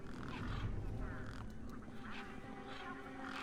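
Ducks quacking in the video game Beyond a Steel Sky, several quiet rasping quacks spaced irregularly over a low steady background hum, with no speech.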